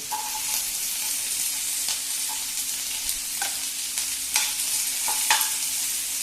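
Peeled garlic going into onions frying in oil in a pan, with a continuous close sizzle broken by several scraping stir strokes and light clicks of the spoon against the pan.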